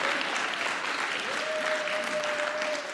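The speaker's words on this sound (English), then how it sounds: "y'all go ahead and clap for my man." An audience claps for a man during a community talk, a steady, even round of applause filling the whole stretch at moderate loudness with no voice over it.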